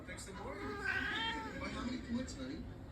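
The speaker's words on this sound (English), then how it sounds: "If you hear my cat, she's being a pain in the butt." A pet cat named Callie meows repeatedly indoors, drawn-out and fairly close, with a person talking faintly alongside.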